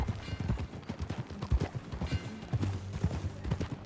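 Horse hooves clip-clop in Red Dead Redemption 2, a steady, close run of hoof beats that fills the whole stretch at an even, moderate volume.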